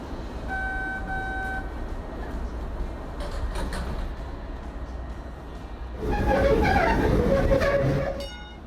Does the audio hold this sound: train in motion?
yes